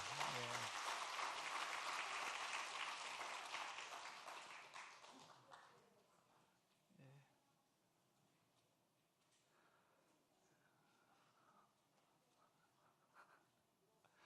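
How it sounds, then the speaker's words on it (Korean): An audience claps for several seconds at a church worship service, a dense burst of applause that fades out, followed by quiet room noise with occasional taps. "감사의 박수 한번 합니다."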